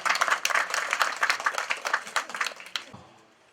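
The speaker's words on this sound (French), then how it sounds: "Je voudrais même nous inviter à applaudir pour ces élites" An audience at a village gathering during the Bafang sub-prefect's visit to Bankoh claps for the local elites. The brisk, fairly close applause fades out near the end.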